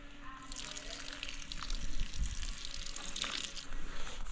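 Red cask wine being poured into a cooking pot for a brisket pie, a soft steady liquid gush at low level over faint background hum.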